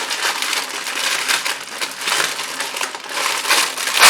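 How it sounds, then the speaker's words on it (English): Waxed-style paper from a travelers notebook unboxing being handled and crumpled, a continuous close crinkling and rustling for several seconds with no talk. "So, noisy paper. It's like a waxed paper, kind of."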